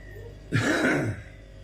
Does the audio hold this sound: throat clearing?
yes